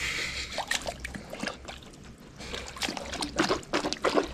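A husky digging at and splashing in water, with irregular sloshing and trickling splashes, some louder bursts near the end, close by and with no talk.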